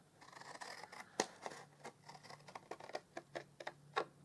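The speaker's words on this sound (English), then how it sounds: "Now we cut up these exactly the same as we did for the outside boxes." Scissors snip through paper pieces for a gift box craft project, a series of quiet, close, irregular crisp cuts with small rustles between them.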